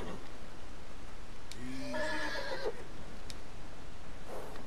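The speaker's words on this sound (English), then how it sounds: "Okay, so now we gotta calm the horse." A horse in the game Red Dead Redemption 2 lets out a clear, fairly close whinny midway through, against a constant blizzard-like wind hiss, with faint hoof or tack clicks around it.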